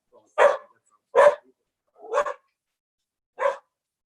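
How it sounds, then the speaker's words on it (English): A dog barks four times in separate, evenly spaced bursts, fairly loud and close, with silence between the barks. "I hope that the dog will not get excited again"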